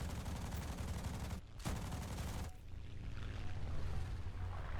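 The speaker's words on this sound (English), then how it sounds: "I aim my guns, and I fire at him" A Bf 109 F-4 fighter's machine guns rattle in sustained bursts during a flight video game, a dense continuous roar with a brief break before firing resumes over the engine drone.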